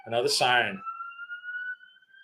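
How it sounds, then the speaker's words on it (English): A person talks briefly, then a steady, high ambulance siren tone carries on alone outside, sounding somewhat distant and fairly faint. "Oh, another siren."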